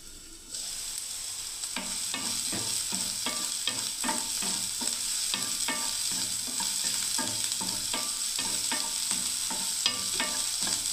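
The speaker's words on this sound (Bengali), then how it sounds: "বেগুনটাকে ভেজে নিচ্ছি" Eggplant frying in hot oil in a pan, a steady sizzle under a regular series of spatula stirs and scrapes, close and clear, with no talk.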